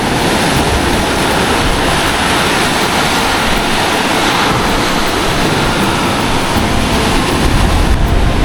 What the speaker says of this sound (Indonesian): Tadi saya hampir saja terkena ombak besar ya.